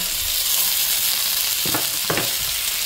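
Ground beef fries in a pan for lumpiang toge, giving a steady, loud hissing sizzle broken by two short stirring scrapes.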